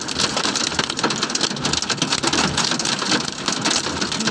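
Night rain pours down in Guwahati, Assam, a dense, loud, unbroken hiss of drops striking surfaces, steady from start to finish with no voices.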